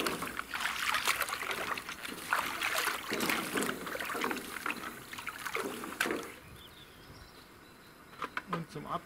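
Brushes being rinsed in a tub of clear water, with sloshing and splashing, then quieter trickles and drips as the water settles.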